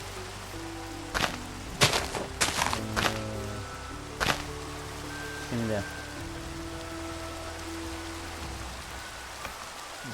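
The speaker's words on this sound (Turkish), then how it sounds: "Nasıl yağıyor mübarek? Allah. Her bulut. Yağmur çamur." Steady rain falls in a Minecraft survival world as a soft constant hiss, broken by sharp game clicks, thuds and blocky tones, with a brief spoken word near the start.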